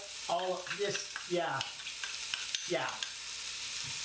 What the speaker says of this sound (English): Onions and garlic are in. I'm just gonna give that a stir around and let that onion cook out a little bit.